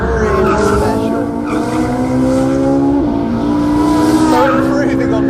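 Ferrari 458 Speciale driven hard at the limit, its engine howling loud and close with rising and falling revs and tyre squeal through a corner, sustained throughout with no pauses.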